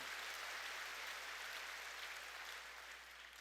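Steady broadband clapping from a church congregation, sustained and fairly even throughout, tapering slightly at the end with no talking over it.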